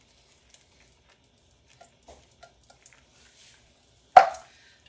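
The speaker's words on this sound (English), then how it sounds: "I've got 1 can of chili beans here, and I just dumped that whole can in there." A can of chili beans is dumped into a chili pot, landing as one sudden wet plop after several faint scattered ticks and small knocks, close and otherwise quiet, with nobody speaking.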